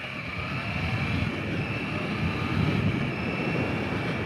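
A Triumph Trident motorcycle engine drones steadily while the bike is ridden, a loud continuous hum blended with wind rush and no talk.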